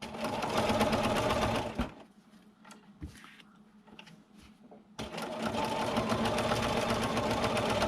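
A sewing machine doing free-motion stitching on a quilted fabric gift bag, with a fast steady needle rattle that stops for a few seconds of quiet handling and then resumes.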